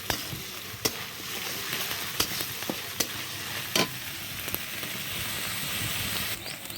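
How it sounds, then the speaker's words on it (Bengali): Onion, garlic and ginger fry together in a pan with a constant hissing sizzle, broken by sharp clicks of a spoon stirring against the metal, close and even. "ভালো করে ভেজে নিতে হবে যেন রসুন কাঁচা গন্ধটা না থাকে"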